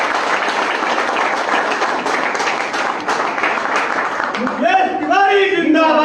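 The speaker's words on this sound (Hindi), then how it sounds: "एक बार जोरदार ताली के साथ" Loud crowd applause at a public political gathering in Baikunthpur, India, held as a legislator comes to address the people: dense, sustained clapping for several seconds before a voice starts speaking over the tail end.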